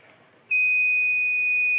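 An electronic buzzer on a fault-tolerant embedded control system switches on abruptly after a node is disconnected, holding a steady, piercing high-pitched tone, loud and unbroken until the end.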